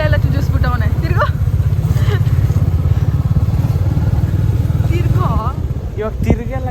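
A motorbike ridden along a lake road on the way to a temple, its engine a steady close rumble throughout, with a person talking over it and a sharp knock near the end.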